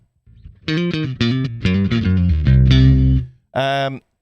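An electric guitar plays through an effects unit, loud chords with a gritty distorted tone, several rhythmic strummed hits followed by a longer held chord and one final stab.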